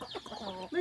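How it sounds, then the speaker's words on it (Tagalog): Native chickens cluck around a feeding spot in the mountains, a short burst of close, busy fowl calls ending in one sustained higher note. "Look, let's eat. Chicken, come. Come here."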